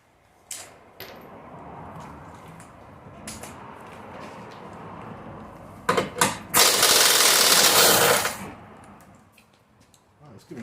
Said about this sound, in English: using an impact gun on it.